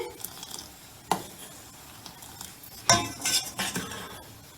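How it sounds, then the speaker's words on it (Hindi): Kashmiri tea is beaten with a ladle as it cooks in a pot with salt and baking soda, making irregular clinks and scraping strokes against the metal that come in bursts and grow busier toward the end. "अब हमने इसको बीट करते हुए पकाना है"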